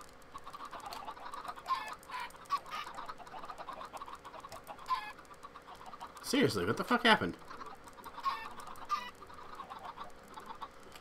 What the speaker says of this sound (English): Well, time to kill a bunch of chickens.